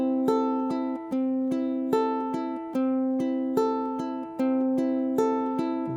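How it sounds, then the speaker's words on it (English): A ukulele plays a fingerpicked arpeggio pattern at a moderate, even tempo, each plucked note ringing clearly into the next in a repeating cycle of bright, close-up tones. "When played at a normal tempo, the arpeggio pattern should sound something like this."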